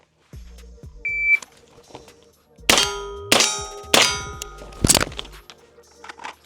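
Several .22LR handgun shots ring out against steel targets, each a sharp crack followed by a bright metallic clang, with four strong impacts spaced about half a second to a second apart after a few fainter ones.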